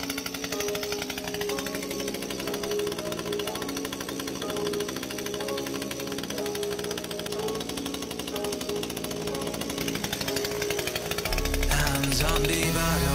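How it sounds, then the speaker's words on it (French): A chainsaw roars nonstop at close range while cutting into a boat's cabin during a renovation, a harsh dense rattle holding steady before the sound shifts near the end. "Donc voilà, on va faire ça à la tronçonneuse."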